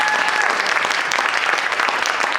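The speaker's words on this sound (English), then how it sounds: "Give her some applause," A theater audience at a community players' show bursts into dense, steady applause that fills the whole stretch, with the clapping loud and close.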